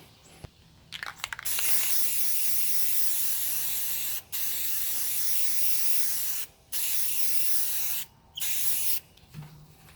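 Spray paint hisses from an aerosol can in several bursts separated by brief pauses, close and steady, sprayed over a masked surface.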